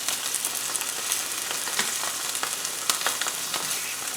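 A rib-eye steak sizzles steadily in a pan while it is basted with garlic, giving a continuous bright hiss with small crackles and pops and no voices.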